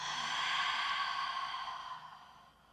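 A long, deep exhale during a power yoga and pilates leg flow, a soft breathy rush close to the mic that fades out over a couple of seconds.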